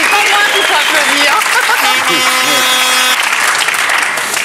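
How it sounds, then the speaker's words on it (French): Studio audience applauding on a French television game show, a dense, steady wash of clapping that fills the whole stretch, with a host's voice and some musical tones faintly audible over it. "On applaudit Evelyne."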